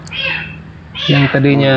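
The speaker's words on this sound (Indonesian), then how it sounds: "suara kucing ini." Cat meowing close by, one drawn-out meow followed by a louder, longer one, with someone speaking over part of it.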